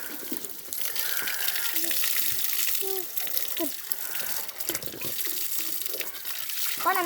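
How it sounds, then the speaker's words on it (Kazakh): Water pours in a steady splashing stream while voices speak faintly underneath. "Осыған суды құйып берейін."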